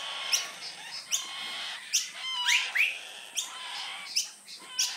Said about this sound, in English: Yeah, fryer birds, because they're bold, like fryer tuck.